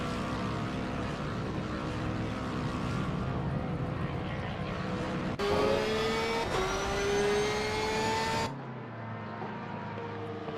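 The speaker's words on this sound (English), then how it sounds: "Cars crossing the finish line now." GT race cars cross the finish line at Spa-Francorchamps, engines roaring loudly past with rising, sweeping pitch, one car after another, a commentator's voice running underneath.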